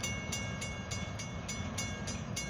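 Kiamichi Railroad SD diesel locomotive train departing near Haworth, Oklahoma, a steady low rumble with regular rhythmic clacks about every third of a second, moderately close and continuous throughout.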